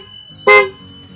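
One short, loud car horn honk, a single clipped beep standing alone against a quiet background hum.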